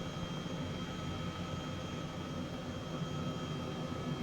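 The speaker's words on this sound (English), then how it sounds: "this is the smoothest helicopter flight I've ever had in New York" A helicopter flying over New York City in Microsoft Flight Simulator, played in VR, gives a steady, dense rotor-and-engine drone that holds at an even loudness throughout with no voices.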